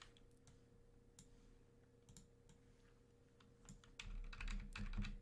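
Arrow keys on a computer keyboard pressed while arranging a layout in CorelDraw, quiet scattered clicks over a faint steady hum, growing denser and louder near the end.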